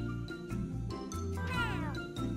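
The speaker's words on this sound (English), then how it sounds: "He said meow." A cartoon cat in the Talking Juan game gives a short synthetic meow amid jingly game music and chimes, steady and close, with tones sliding through the middle.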